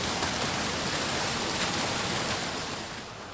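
Spring water brought down from the mountains runs through a channel in a classical Persian garden in the desert, a steady, close, full rushing wash with no voices.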